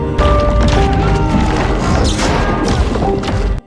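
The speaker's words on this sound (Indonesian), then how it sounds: "Sebelum berangkat, terjadilah gempa." Loud crashing and rumbling from an earthquake scene in the disaster film Moonfall: dense impacts and heavy debris clatter fill the whole stretch, ending abruptly.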